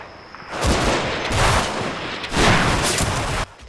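Dense covering gunfire and rolling bursts of rifle and machine-gun fire from a World War II platoon in Combat Mission: Fortress Italy, loud and sustained with heavier booming surges, no voices.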